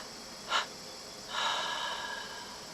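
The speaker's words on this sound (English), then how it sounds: "And now a triple exhale through the mouth." Calm guided meditation breathing: a short breathy exhale through the mouth, a pause, then a longer soft exhale, close and quiet with no talk.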